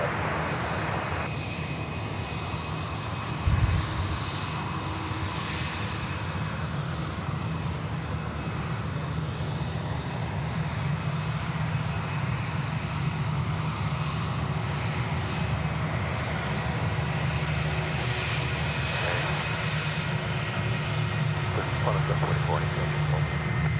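A steady aircraft engine drone at Sydney Airport fills the whole stretch, a continuous broad roar at moderate distance with little change in level.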